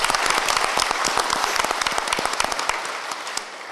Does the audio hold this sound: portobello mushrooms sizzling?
no